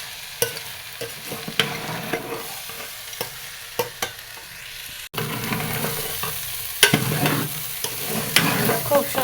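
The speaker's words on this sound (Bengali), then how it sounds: "এবার চাল দিয়ে ডাল দিয়ে একসাথে ভালো মতো মশলা দিয়ে কষাই নেব" Rice and lentils are sautéed with spices in a pan for khichuri: a soft, constant sizzle broken by repeated scraping strokes of a spoon at irregular intervals, close and fairly quiet.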